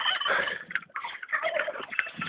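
Turkeys gobble in a dense, continuous chorus, with overlapping calls crowding together loudly and close by, and a brief dip near the middle before the gobbling resumes.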